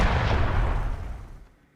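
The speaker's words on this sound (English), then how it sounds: "Cannon fire, that is." A single heavy cannon shot booms loudly and close, then rolls away into a fading rumble over about a second and a half with nothing else heard.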